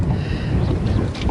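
Wind buffets loudly across a lake during a fall bass fishing trip, a steady low rumble of gusts hitting the microphone with no other clear sounds.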